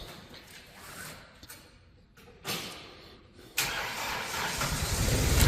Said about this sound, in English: There's your Kohler coming to life.